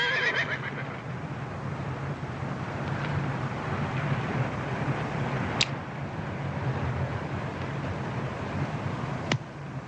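A horse neighs and whinnies in an old Western frontier town setting, a loud close call at the start followed by steady wind-like noise and faint hoof sounds, with no speech.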